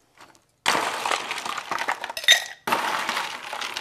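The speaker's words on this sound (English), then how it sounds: "Gonna put some ice in our shaker." Ice cubes tumbling into a cocktail shaker for whiskey eggnog: a loud clattering rush of cubes hitting metal, a brief pause with bright clinks, then another pour of rattling ice, close up with no talk.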